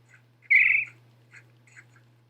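A single duck-like squawk sounds out of place in a desert habitat exhibit, a loud burst followed by a few fainter calls over a steady low hum.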